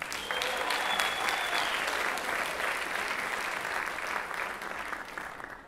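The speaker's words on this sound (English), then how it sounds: "Big round of applause for all of our all-region participants." An audience at a symphonic band spring concert claps steadily and loudly throughout, a dense unbroken wash of applause with a faint voice briefly audible beneath it.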